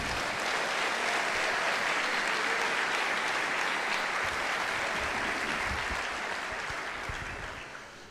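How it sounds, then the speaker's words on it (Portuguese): Church congregation at a large worship service breaking into loud, sustained applause, a thick wall of clapping from many hands that holds steady before easing slightly toward the end. "Aplauda forte."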